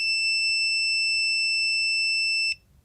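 A Sure-Lock Z-Wave Plus deadbolt lock gives one long continuous high-pitched electronic beep after a factory reset, loud and steady for about two and a half seconds before cutting off abruptly.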